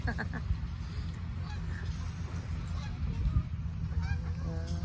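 Wild ducks call at a park lake, Mill Lake Park in Abbotsford, British Columbia, with repeated nasal honking cries, several birds fairly close, over a steady low outdoor rumble.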